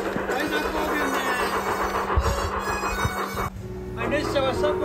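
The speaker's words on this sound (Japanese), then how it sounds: "列車は車庫に入ります" A train rumbles slowly into a depot near Kaida Kogen, Nagano, Japan, with metallic wheel squeals and low mechanical hum. Near and steady, it eases to a lower drone near the end.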